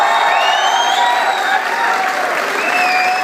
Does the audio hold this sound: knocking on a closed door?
no